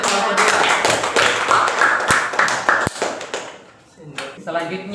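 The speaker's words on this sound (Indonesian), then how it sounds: "berikan tepuk tangan untuk kelompok 2" Classmates clap for a group that has just finished presenting, a burst of close, sharp handclaps with scattered taps and thuds that thins out toward the end, with voices talking.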